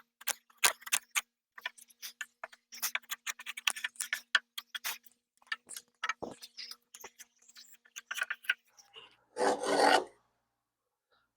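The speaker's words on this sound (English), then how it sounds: "I like to bevel the edges of everything, makes it easier to insert." A hand rasp scrapes along the edges of a timber frame joint, bevelling the wood in a long run of quick, irregular strokes, then one sustained rasp near the end, close and clear.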